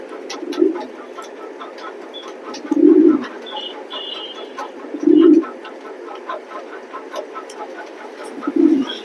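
Racing pigeons in a pigeon loft give low, soft cooing calls in four separate bursts, close by, over faint background chatter and rustling.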